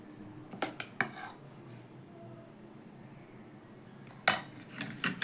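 Batter is spooned into bowls and cups for an oil-free tiffin recipe, bringing a few sharp clinks and knocks of utensils against dishes with quiet gaps between them.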